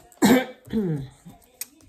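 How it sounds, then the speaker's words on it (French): A couple of short, harsh coughs close up, with a brief pause between bursts and a small click near the end. "J'en ai marre de cette toux."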